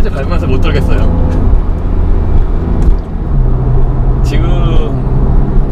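Porsche 911 Carrera 3.0 twin turbo (991.2) on Pirelli tyres accelerating at full throttle through a corner, engine roaring and rising in pitch beneath a driver talking over it inside the cabin.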